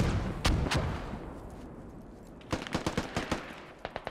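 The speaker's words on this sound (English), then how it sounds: "Our mortar barrage is landing, guys." A mortar barrage lands in a squad-based military shooter game, with two booming impacts up front, then a rapid string of sharp blasts and cracks, fairly close and loud.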